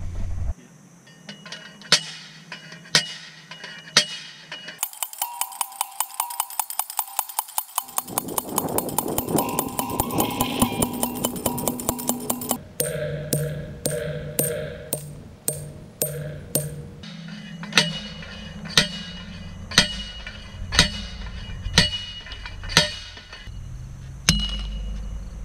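Metal high tunnel posts are driven into hard graded clay ground, ringing clanks struck one by one, then a long fast burst of rapid repeated impacts, then more spaced single blows, loud and close with little talk.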